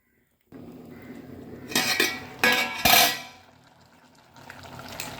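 A metal lid clatters onto a pot on the stove while olan, a Kerala ash gourd and coconut milk dish, is being cooked, with several sharp close clangs in quick succession over a light background hiss.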